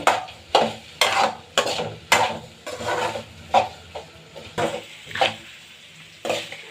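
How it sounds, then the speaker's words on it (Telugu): Peeled potatoes frying in a pan and stirred, about a dozen sharp rhythmic scrapes and knocks of a spoon against the pan over a soft sizzle, close and loud. "ఆలు వేసి ఇలా కలుపుకున్నాక ఒక 2 మినిట్స్ ఫ్రై చేసుకోవాలండి"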